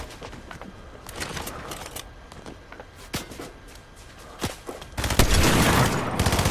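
Gunfire in a Fortnite solo match: scattered sharp cracks, including a sniper rifle shot, then a dense, louder burst of rapid firing near the end, with no voices over it.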